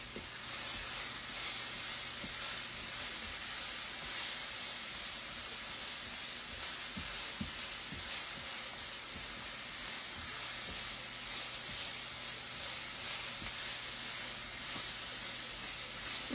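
Seasoned butternut squash sautéing in a pan with poultry seasoning and black pepper, a steady soft sizzle and hiss with occasional stirring scrapes, close and fairly quiet with no talking.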